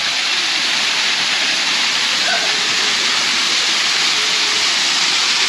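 A waterfall in a hydrangea garden at a resort forest park, roaring as a loud, constant broadband rush of falling water that fills the whole stretch without pause.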